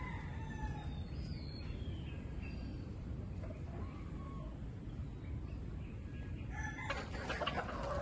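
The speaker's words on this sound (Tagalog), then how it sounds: "Ang daming manok, di ba?" Many chickens cluck across a farmyard while roosters crow at a distance, faint and layered over a constant low background rumble.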